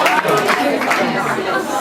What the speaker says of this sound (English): And another round of applause for Yamaguchi.